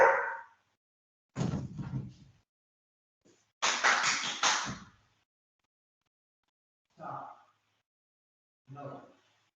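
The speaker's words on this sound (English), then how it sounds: "The dogs are barking." Dogs barking indoors in a house, a few scattered bursts of barks separated by silent gaps, muffled and moderately distant, fading to softer single yaps.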